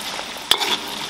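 Chopped chili peppers hit a hot wok with pork skin, ginger, garlic and bean paste, giving a brief close sizzle with a sharp clink of the spatula as the stir-fry is tossed.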